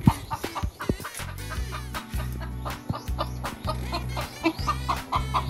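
Chickens cluck repeatedly at close range on a Filipino farm, sharp bursts of clucking over a steady low engine-like hum, with no talking.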